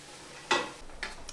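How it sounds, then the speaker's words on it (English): Onions being stirred in a hot pan for homemade ketchup, with a sharp scrape and a burst of sizzle, then a couple of softer stirring sounds close by. "I can hear them sizzling."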